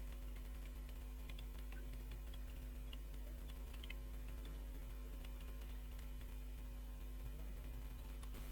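Steady typing on a computer keyboard while a resume is filled in, with light scattered key clicks over a constant low electrical hum and no speech.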